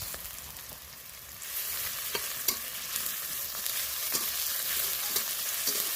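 Garlic paste frying with onions in a pan, a bright continuous sizzle that swells after the first second, with repeated sharp scrapes and taps of a spoon stirring, close and clear without speech.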